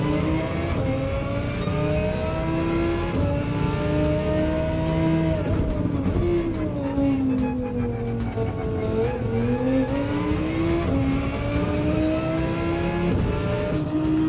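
An Audi race car engine in Gran Turismo 7, on a long daily race at the Gilles Villeneuve circuit, drones loud and steady, its pitch climbing and dipping through shifts with faint tire squeal and no talking.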